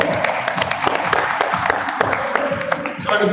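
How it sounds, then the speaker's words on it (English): A live audience at an outdoor cycling talk event breaks into dense, steady applause, many hands clapping together at close range for the whole stretch with no pause. "Let's give a round of applause."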